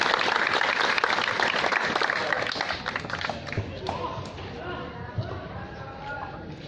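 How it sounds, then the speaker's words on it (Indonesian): Group applause from students at a new-student orientation held in a school courtyard, loud at first and then thinning and fading, with voices and a few scattered claps continuing underneath. "Tepuk tangan bersama-sama"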